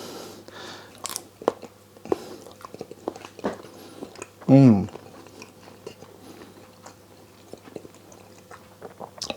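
Someone eats a chicken, mushroom and sweet corn stir fry, with soft chewing and occasional crunchy bites, one of them louder. The close, quiet mouth sounds sit under faint background noise.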